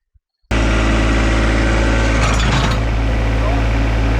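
A John Deere tractor engine, used while reinstalling a drive-over AutoConnect mower deck, starts after a brief click and then runs loud and close with a steady, unbroken drone, with no one talking.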